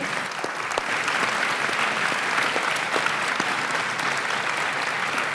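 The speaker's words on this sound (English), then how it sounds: "that deserves a round of applause, doesn't it" Steady applause from a crowd, dense clapping sustained throughout at an even, fairly loud level with no talking over it.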